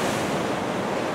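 Strong ocean surf after a bomb cyclone at Hayama, a loud, dense, continuous roar of breaking waves with wind, heard briefly and without voices.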